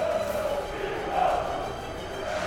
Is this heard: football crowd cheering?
yes